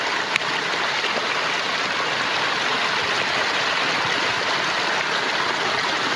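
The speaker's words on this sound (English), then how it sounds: "We got mountain spring water, fresh from the source" Mountain spring water in Switzerland runs at its source with a constant close rushing babble, loud and unbroken, with a single faint click near the start and no talk.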